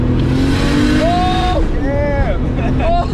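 A turbocharged Nissan Skyline GT-R engine roars and revs hard through rising gears, boost kicking in around 5,000 rpm, with voices talking over the constant drone.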